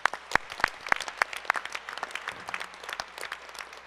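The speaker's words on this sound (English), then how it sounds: "she deserves a round of applause." Audience applause at an elected officials panel, a scattered crowd of hands clapping at moderate distance, irregular and fairly sparse, holding steady across the few seconds without talk over it.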